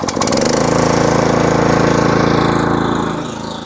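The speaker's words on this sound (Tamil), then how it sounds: "நம்ம வந்து இன்ஜினை ஸ்டார்ட் பண்ண போகிறோம்" A 10GDPE petrol power weeder engine fires up and runs with a loud, close, rapid mechanical chugging that holds steady for several seconds, then eases slightly toward the end.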